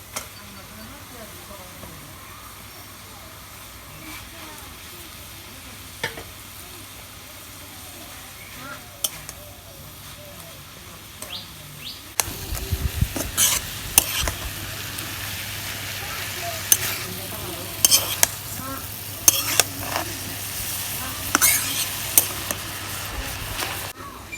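Banana flower fries in a pan with dried fish, a quiet sizzle at first, then louder crackling and the scrape of stirring in close, irregular strokes as a voice talks over it.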